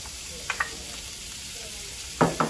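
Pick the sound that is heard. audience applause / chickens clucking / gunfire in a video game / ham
ham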